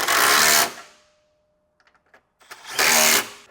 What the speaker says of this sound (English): tighten that new hardware down with a 14mm socket